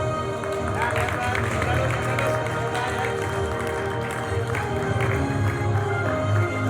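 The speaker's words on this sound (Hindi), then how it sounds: "तालियां तो बनती है." Audience applause for two child artists on stage at the 17th NBC awards ceremony, a dense, steady wash of clapping and crowd noise with speech running underneath throughout.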